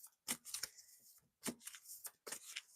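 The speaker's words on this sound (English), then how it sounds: "We'll shuffle that some more." A deck of tarot cards being shuffled close up, in three quick crisp riffling bursts separated by brief pauses, quiet with no talking.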